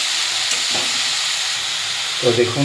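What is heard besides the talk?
stirring fenugreek greens with smoked mutton in a frying pan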